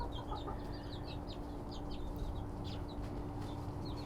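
Bantam chickens clucking in short, irregular bursts amid a steady background hum, moderately close and fairly faint, with no voices.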